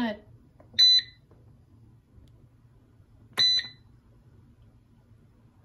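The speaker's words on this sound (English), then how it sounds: "my cake is beeping at me" Two short electronic beep bursts from a kitchen timer on a baking cake, spaced a few seconds apart, high and bright, over a low background hum with brief speech at the edges.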